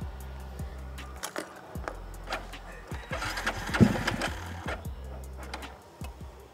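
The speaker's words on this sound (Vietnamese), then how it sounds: "sẽ nổ máy cho các bạn nghe" A loud modified Yamaha Exciter motorcycle engine with a 65 mm bore rumbles through low steady tones, with sharp revving bursts near the middle; speech faintly in the background.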